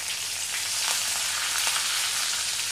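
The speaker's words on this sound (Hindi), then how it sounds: "हरी मिर्च फ्राई होने पे हम ये करी लीव्स डाल देंगे इसमें" Green chillies and curry leaves fry in oil in a pan for a light puffed-rice poha: a steady, close, hissing sizzle with faint crackles runs continuously throughout, with no speech.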